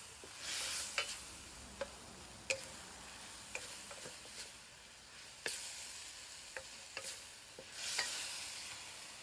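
Glass noodles with vegetables, seasoned with soy sauce, fish sauce and oyster sauce, stir-fried in a pan, giving a steady sizzle broken by sharp scraping clicks of a utensil at irregular intervals.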